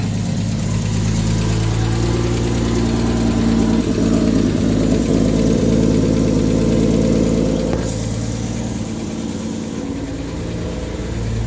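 A Scamp car engine idles steadily at close range with a low, even drone and a slight dip in level late on, with no talking.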